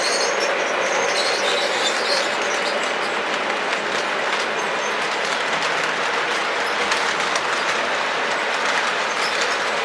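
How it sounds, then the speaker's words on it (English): Several O27 gauge model trains, a Santa Fe set among them, run past on a home layout with a steady, close rumble and rail clatter throughout, occasional wheel squeal, and no talking. "the trains going by"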